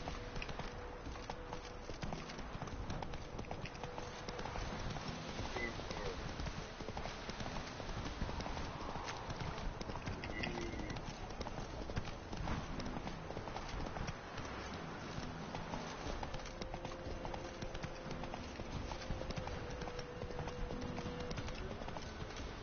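Horse hooves galloping in The Witcher 3 video game, rapid rhythmic clip-clop beats running continuously and close, with faint background tones.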